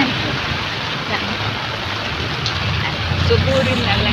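Heavy rain pours steadily around someone walking outdoors without an umbrella, a dense, continuous wash of close water noise that holds loud for the whole stretch with no break.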